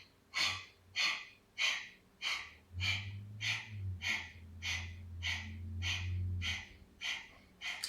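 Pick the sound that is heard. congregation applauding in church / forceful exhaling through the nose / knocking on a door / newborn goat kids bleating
forceful exhaling through the nose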